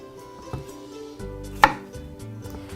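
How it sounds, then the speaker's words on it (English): A knife chops a single zucchini on a cutting board, several separate close cuts with one sharp loud chop in the middle, no talking. "We'll cut each end off and then cut our zucchini in half, and then in quarters"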